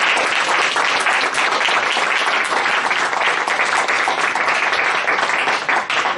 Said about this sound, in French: Je pense qu'elle mérite notre applaudissement.